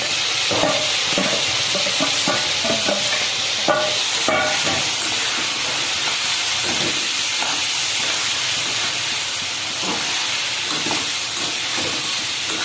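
Banana stem, potato and papaya stir-fried with spices in a pan, giving a constant hissing sizzle with intermittent scrapes and knocks of stirring throughout.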